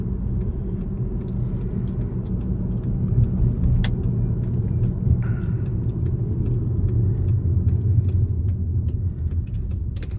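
A 2007 Volkswagen Jetta accelerates at full throttle, its engine giving a steady, loud, low rumble heard from inside the car for the whole stretch, with no talking.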